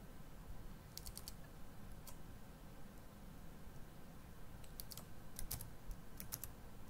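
Typing on a computer keyboard at a cluster PC, faint scattered key clicks in small bursts over a steady background hum.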